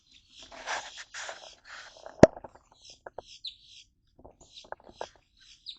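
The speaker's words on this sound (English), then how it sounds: "Listen to those boat tail grackles." Boat-tailed grackles call outdoors in the morning with harsh chirps and clicks scattered across several seconds, moderately close, alongside a sharp knock and soft handling noises.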